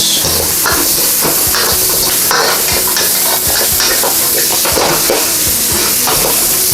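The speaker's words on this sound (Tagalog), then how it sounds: "Yan, stir lang po natin ang ating carrots ng mga 2 to 3 minutes" Carrots stir-fried with pork hiss loudly in a pan, a dense close sizzle that runs without pause, with the scrape and clatter of stirring against the pan.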